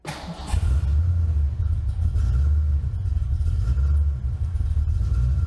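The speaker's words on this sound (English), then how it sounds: "it's got the right sound with aftermarket exhaust and a small cam" A 1990 Ford Fox Body LX coupe with aftermarket exhaust and a small cam pulls away on a test drive, its deep rumbling exhaust loud and close, swelling and easing with throttle, no talk over it.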